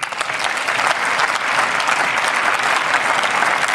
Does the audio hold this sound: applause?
yes